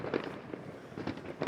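Fireworks burst at New Year midnight as a scatter of faint, distant pops and booms, several spaced bursts over a low background hum.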